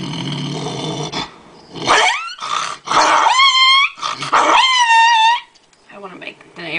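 A woman vocally imitates two dogs fighting, starting with a low rumbling growl and breaking into loud, overlapping snarls, barks and yelping whines, close and intense, before trailing off into softer grumbles.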